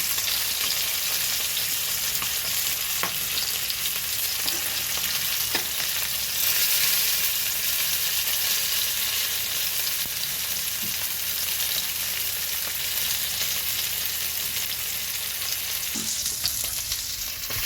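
Fish pieces fry in oil in a pan for a fish mash, making a dense, continuous sizzle that stays loud and close throughout, with a few faint clicks and no voices.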